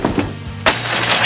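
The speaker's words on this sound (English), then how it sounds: "we took, aquariums, cinder blocks, just anything you can imagine, and we were just smashing it" Glass and solid objects such as aquariums and cinder blocks being smashed in a studio, with a thud and then a loud burst of shattering that rings on without stopping for about half a second.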